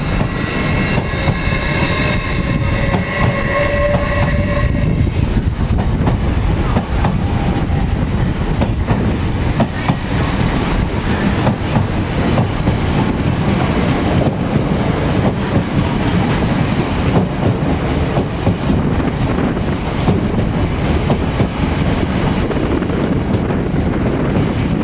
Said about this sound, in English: over here we've got 801 105 and 801 102 forming the service from Leeds to London King's Cross